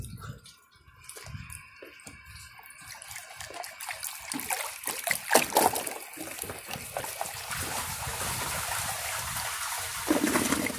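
A clogged 2002 Eljer Patriot toilet bowl fills with rushing, gurgling water that swells and splashes as it overflows, steady and close, with faint talk in the background.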